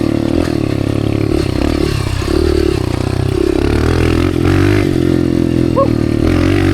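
A dirt bike rides through the desert, its engine droning loud and close with steady harmonic buzz and shifting revs, plus scrapes and clatter from rough terrain.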